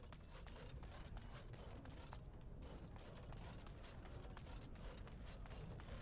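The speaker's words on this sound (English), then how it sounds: "It sounds like I'm opening a door somewhere" A door mechanism grinds open somewhere in the video game Dragon Age Origins, a faint, steady mechanical ratcheting and creaking that runs unbroken throughout with no voices.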